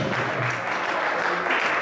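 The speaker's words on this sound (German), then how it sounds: "Das ist die Applaus" Audience applause at the 2013 Open Swiss Championship weightlifting meet in Wangen an der Aare, a steady wash of clapping filling the hall after a lift, without pause.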